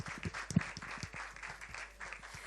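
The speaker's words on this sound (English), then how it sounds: "can we have a huge round of applause?" An audience applauds at a film trailer launch, a steady patter of clapping from a crowd, moderately loud and continuous, with a sharper clap standing out early on.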